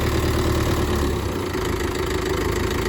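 Tractor engine idling steadily with a low, rapid chugging pulse as the accelerator is adjusted, loud and close, running on without pause.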